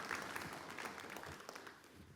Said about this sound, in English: So just give a big round of applause to John Sebesta and Neil Pollard